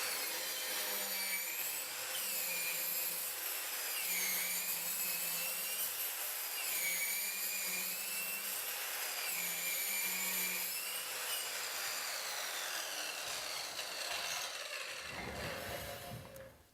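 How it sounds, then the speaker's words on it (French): A power saw cuts through a pipe with a loud, continuous grinding whine that rises and falls in repeated strokes, then winds down at the end. "Tout d'abord, nous scions le tuyau en vitesse réelle"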